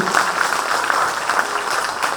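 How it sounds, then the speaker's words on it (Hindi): Audience applause at an inaugural function for special students, a dense steady wash of many hands clapping together at moderate loudness for a couple of seconds, with no distinct voices. "तो जोरदार एक बार सभी के लिए ताली बजेगी"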